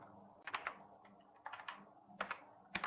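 Computer keyboard keys tapped while writing Java code in BlueJ, close and crisp, in short irregular bursts of several clicks separated by brief pauses, with no voice.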